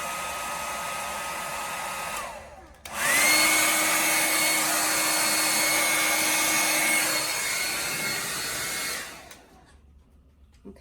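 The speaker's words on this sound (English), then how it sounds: "let me get the blow dryer" A blow dryer runs briefly at low speed, cuts out, then switches to high and blows steadily and loudly for several seconds while drying paint on a spinner, before shutting off.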